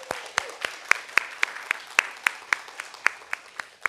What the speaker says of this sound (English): I just wanted another round of applause for our speakers